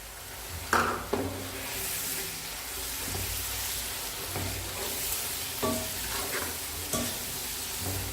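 Chicken karela frying with cumin, garam masala, crushed red chili, turmeric and salt gives a steady sizzle, broken by occasional spoon scrapes and knocks against the pan.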